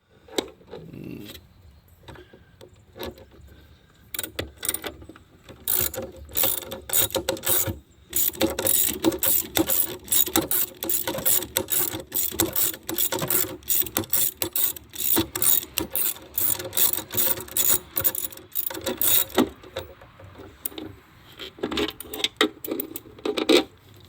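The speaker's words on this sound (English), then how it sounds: "I've got my 12 millimeter, got a little 3/8 swivel. I'm just going to come in here." A 12 mm socket on a 3/8 swivel and ratchet loosens bolts during dash removal on a Kia Soul, giving a rapid close ratcheting clicks in repeated runs with brief pauses.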